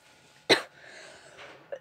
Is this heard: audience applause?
no